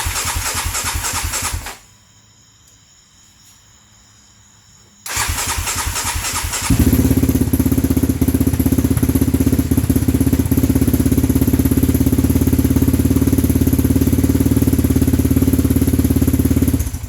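A Yamaha Raptor 700 ATV engine cranks briefly, falls silent for a few seconds, then cranks again and catches, settling into a loud, steady, close idle that runs to the end.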